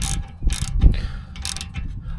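A brake caliper bolt on a G82 BMW M4 being loosened with a ratchet, giving short mechanical clicks and clunks in a couple of close bursts.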